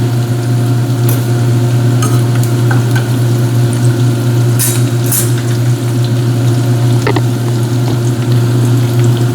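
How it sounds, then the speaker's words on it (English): Vegetables sauté in a pan while being stirred for a brunch dish, giving a steady, close sizzle with a constant low hum underneath and a few light scrapes and clicks throughout. No one speaks. "the vegetables are pretty much sauteed"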